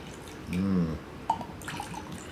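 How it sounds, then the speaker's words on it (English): Highland Queen Scotch whisky pours from a standard bottle with a short, hollow glug, followed by a small splash and soft trickling, close by and quiet. "It does have a nice glug, glug, glug out of the bottle."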